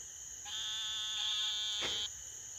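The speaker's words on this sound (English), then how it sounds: "you can hear those are, right there, narrow-mouthed toads" Narrow-mouthed toad calling at night: a nasal, buzzy, bleating drone that holds for about a second and a half over a steady insect chorus, moderately distant, with no talk.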